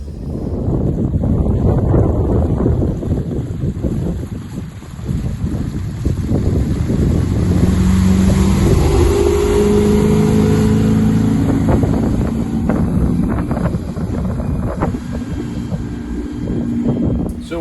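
A Bayliner 245 motorboat with a MerCruiser 5.7L TKS 250HP Bravo III engine gets underway on a lake, giving a loud, close, steady engine drone mixed with rushing wind across the microphone.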